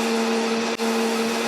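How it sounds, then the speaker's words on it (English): Blender running steadily as beetroot blends with water, a loud constant motor whine with one brief dip before it cuts off. "we are going to be blending it in a blender"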